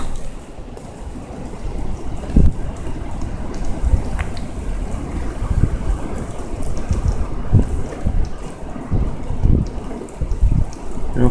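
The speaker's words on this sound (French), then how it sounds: "Ça pleut un peu moins, mais ça souffle énormément fort." Storm Eleanor's strong wind in Amiens, France, on 3 January 2018, with some rain: loud, continuous roaring gusts buffet the microphone in surges for the whole stretch, with no voices.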